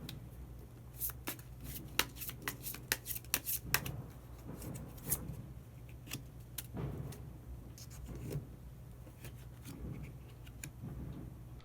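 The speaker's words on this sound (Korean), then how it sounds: "마지막으로 히든 카드 한 장 더 뽑아보도록 하겠습니다" Tarot cards being shuffled and a hidden card drawn, a run of crisp close riffling snaps and flicks, busiest early on and then softer scattered handling over a low steady room hum.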